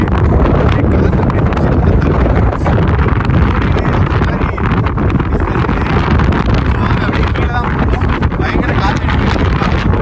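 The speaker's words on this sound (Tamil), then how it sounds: "இங்கெல்லாம் சரியான காற்று அடிக்குது" Strong wind roars across a hilltop trail on the Mangi Tungi trek in Maharashtra, a loud, continuous rumble buffeting the microphone for the whole stretch with no pause.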